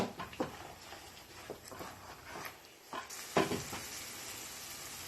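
Spice paste for a dhokar dalna gravy cooking down in oil in a pan, with a continuous close sizzle and repeated scraping stirs, the texture brightening partway through.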